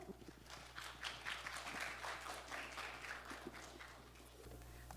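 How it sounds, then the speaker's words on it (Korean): An indoor audience at a horse-industry idea competition applauds warmly, a steady even patter of many hands clapping for several seconds over a low hum, fading slightly at the end. "뜨거운 박수로 응원해 주십시오"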